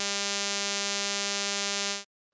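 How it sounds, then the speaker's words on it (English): Synthesized pulse wave built from equal-amplitude cosine harmonics, a steady bright buzzy tone held for about two seconds before stopping abruptly. "A pulse wave is made up of all harmonics of a cosine wave."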